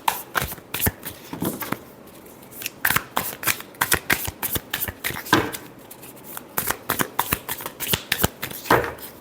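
Tarot cards are shuffled by hand nearby in repeated quick bursts of riffling flutters and snaps, with short pauses between rounds.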